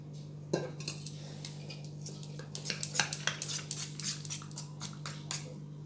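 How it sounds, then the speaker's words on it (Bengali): A spoon stirs three spoonfuls of maize flour into water in a metal bowl, giving quick clinking, scraping strokes that speed up and grow busier, over a steady low electrical hum. "এবার একটু জল দিয়ে গুলে নেব।"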